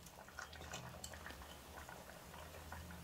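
Vegetable kurma simmering in a covered pot, a soft, steady bubbling with small pops and faint gurgles, quiet and continuous with no talking.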